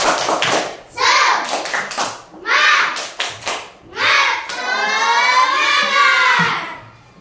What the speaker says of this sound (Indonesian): Sebelumnya kita tepuk semangat.